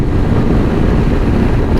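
Strong wind roars over the microphone while riding a Honda CRF300L Rally motorcycle on a motorway, a loud, steady low rush with no talking.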